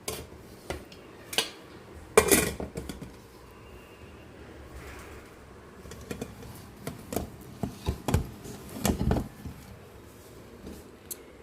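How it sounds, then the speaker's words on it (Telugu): A metal lid is set onto a cooking pot of leafy-greens dal, with several clanks and scrapes of metal on metal, scattered between quieter kitchen handling noises. "మూత పెడతానండి ఇప్పుడు."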